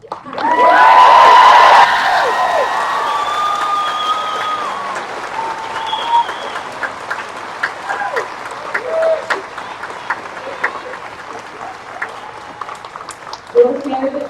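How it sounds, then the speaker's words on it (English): Commencement crowd at Hollins University bursts into applause with cheers and whoops, loud at first, then settling into sustained clapping that gradually thins and fades, with a brief late swell and some voices mixed in. "And now we can applaud."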